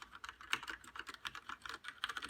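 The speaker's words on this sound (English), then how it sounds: "it's really quiet when you are typing" Typing on a Logitech G610 mechanical keyboard with Cherry MX Red switches, rapid soft clacking keystrokes in a steady irregular stream, close and fairly quiet, with no voices.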